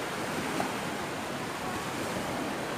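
Soft, steady wash of surf on the shore of the Black Sea's Sunny Beach, with faint wind noise, continuous and fairly quiet, no voices.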